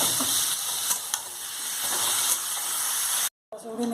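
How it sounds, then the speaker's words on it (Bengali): Chicken meat sizzles and hisses in a pan with chilli powder, turmeric and chopped tomato for a Bengali home-style curry. A continuous loud frying hiss is broken by stirring scrapes and then cuts off briefly near the end. "এবার মাংসটা দিয়ে দিচ্ছি"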